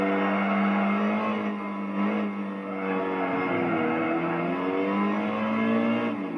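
A race car engine in Gran Turismo 4 holds a high, steady whine with small pitch shifts as it nears the finish line, sustained and loud with no talk.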